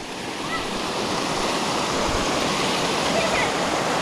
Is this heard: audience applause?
no